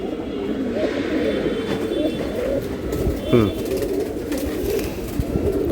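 Pigeons cooing steadily in a low murmur while being handled at a market stall, with a flurry of wing movement midway and people talking nearby.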